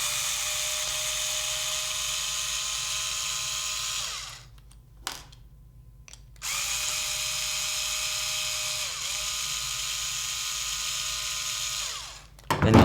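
Small electric screwdriver unscrewing screws from a Nerf Maverick blaster, a steady close whirring motor that cuts out briefly twice, then resumes and runs on before a final rattle.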